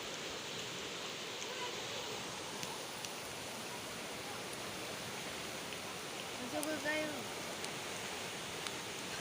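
A flooding river rushes in a constant broadband roar, heard from a distance, with a faint brief voice near the end.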